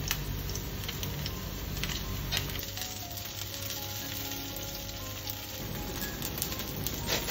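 Pizza patties shallow frying in oil give off a steady, bright sizzle with small crackles and pops, continuous and fairly loud with no voices.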